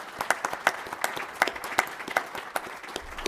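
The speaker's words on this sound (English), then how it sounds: "Becky and Megan, give them a round of applause" A chamber of commerce legislative kickoff audience gives a round of applause, a moderate indoor crowd clapping in a lively patter of distinct claps that continues steadily.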